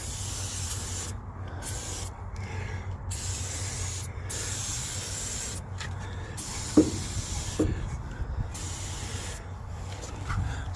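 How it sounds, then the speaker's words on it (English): Liquid Wrench lubricating oil sprayed from a can onto a door latch of a Catalina car, in several short hissing bursts with pauses between, close and fairly quiet. "I'm going to try a new product I bought today. Some lubricating oil liquid wrench."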